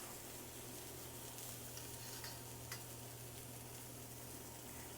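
Herb chicken pieces fry in a pan in a spa kitchen, a soft, steady sizzle that stays even and fairly quiet throughout, with faint clicks.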